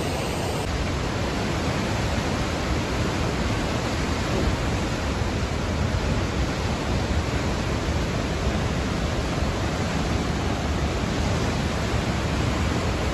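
Athabasca Falls in Alberta, water crashing into a deep rock gorge, a dense unbroken roar that stays loud and steady throughout with no talking.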